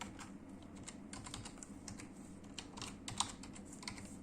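Typing code on a computer keyboard, a quiet run of quick, irregular key clicks with brief pauses and one sharper keystroke near the end, close by and without speech.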